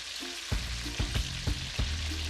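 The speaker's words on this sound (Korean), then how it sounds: "양념이 다 된 만세기는 기름에 넣고 튀기는데요." Mahi-mahi seasoned with salt, chili powder, curry powder and starch fries in oil in South India, a constant crackling sizzle broken by a few soft, evenly spaced thumps.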